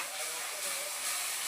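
Chicken frying in a pan with masala gives off a steady, close sizzling hiss that runs unbroken for the whole moment.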